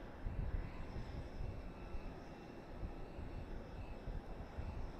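A Boeing 737 airliner landing at Boise Airport gives a faint, distant low rumble that swells and dips gently throughout.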